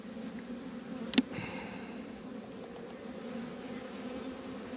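Honeybees around a hive during a nucleus transfer into a larger hive, a faint steady buzz with one brief knock partway through, no voices.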